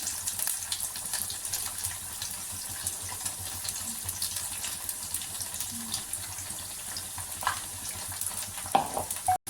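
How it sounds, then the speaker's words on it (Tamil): Bitter gourd pieces shallow or deep frying in hot oil, giving a steady close crackling sizzle throughout, with a faint clatter near the end. "இதை நம்ம டீப் ஃப்ரையும் பண்ணிக்கலாம், ஷாலோ ஃப்ரை பண்ணாலும் பண்ணிக்கலாம்."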